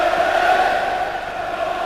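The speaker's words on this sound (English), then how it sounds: "Great support by the Villa fans." Aston Villa supporters in a packed football stadium during a 1997 UEFA Cup match, a steady roar of crowd noise and cheering holding at an even level throughout.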